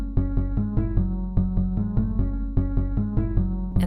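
Layered synthetic tones follow Fibonacci-sequence values taken at moduli 2, 4 and 8. Steady, evenly pulsed notes shift among a few consonant pitches in a continuous, loop-like pattern, with no voices.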